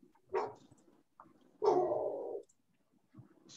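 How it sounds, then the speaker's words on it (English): Large dogs barking in two separate bursts, the second longer and louder, heard from a short distance with quiet gaps between. "My neighbor's got like three gigantic dogs. Oh, hell yeah. And they just scream all day long"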